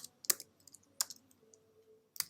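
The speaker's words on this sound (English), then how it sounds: "here what I'm doing is I'm typing mount" A few sharp keystrokes clatter on a computer keyboard as a command is typed, with pauses between the clicks and a faint background hum.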